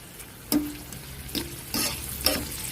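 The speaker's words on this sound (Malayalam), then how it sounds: "എണ്ണ ഒന്ന് ചൂടായിട്ടുണ്ട്. ഇതൊന്ന് മൂപ്പിച്ചെടുത്താൽ മതി," Ingredients frying in heated oil for a Kerala-style nadan biryani, a steady close sizzle with a few stirring scrapes and clanks over it, no talking.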